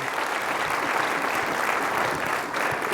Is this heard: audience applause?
yes